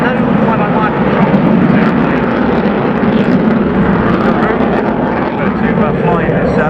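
Polish Air Force Mikoyan MiG-29A jet fighter making a slow speed pass at the RIAT airshow, a loud continuous roar sustained throughout, heard from the crowd at a distance.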